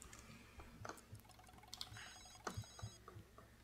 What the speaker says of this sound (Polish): Komuś tam telefon dzwoni, ale to nic, kogo to obchodzi.